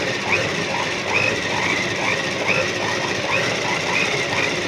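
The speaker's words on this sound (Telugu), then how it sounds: "ఈ సౌండ్ అనేది మీకు మోటార్ సౌండ్." Electric motor of a 4-in-1 household sewing machine running steadily while sewing a straight stitch, with a continuous loud whirr and a faint rhythmic ticking of the needle mechanism repeating at an even pace.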